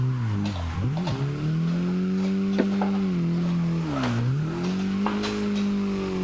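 Mazda MX-5 Miata drifting at a drift park, its engine droning and revving in sustained, wavering tones that dip and rise, with tire noise and brief squeals under a continuous loud roar.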